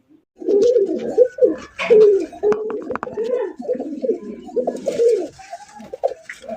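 Fancy racer pigeons at a bird market coo loudly and close, a run of repeated throaty rolling coos filling most of the stretch, with brief voices in the background.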